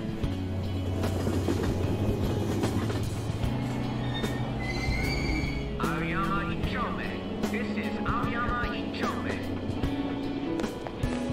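A train in the video game Persona 5 Royal hums and rumbles steadily with low tonal drone and brief squealing, chiming tones, running continuously beneath a spoken voice.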